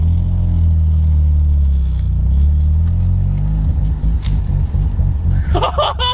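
Rotary engine of a Mazda FC RX-7 idles with a loud, steady, throbbing low burble that turns choppier and uneven toward the end, while a voice briefly joins near the close.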